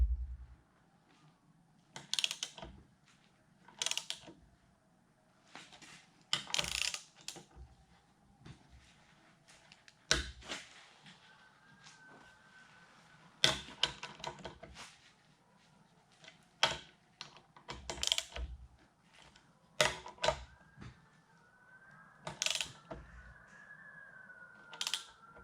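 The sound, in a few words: ratcheting bolts to draw carrier down onto gear, Oliver 1950T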